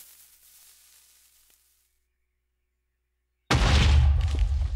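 A cartoon TNT block detonates with a sudden loud boom that erupts after near silence and rumbles on as a heavy roar to the end.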